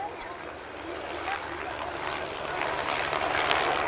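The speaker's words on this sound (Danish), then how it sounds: "Og nu kommer Fennek-helikopterne så ind igen, netop for at sikre området med finskytterne" AS-355 Fennec helicopters flying in a Royal Danish Air Force demonstration at an airshow, a steady, moderately distant rotor and engine drone that gradually grows louder, with someone narrating over it.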